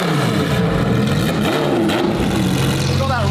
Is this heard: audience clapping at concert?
no